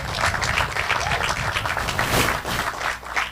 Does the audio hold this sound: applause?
yes